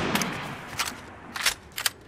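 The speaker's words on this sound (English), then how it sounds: "here's what it looks like when she goes to shoot a weapon." Assault rifle fire in Fortnite, heard as a few quick, fairly faint bursts of shots spread across a couple of seconds with no talk.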